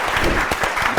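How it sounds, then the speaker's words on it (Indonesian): A studio audience at a television quiz show gives short, dense, steady applause for two competing teams, close and loud, with no talk over it. "tepuk tangan dulu untuk dua tim"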